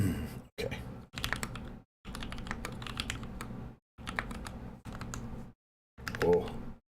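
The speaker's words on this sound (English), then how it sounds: "here we're going to go for the typing test" Rapid typing on a keyboard during a typing test, dense clacking bursts separated by brief pauses, fairly close and crisp, with a faint sigh-like sound near the end.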